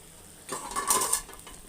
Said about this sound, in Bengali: এবার পুরোপুরি নেড়ে চেড়ে দিব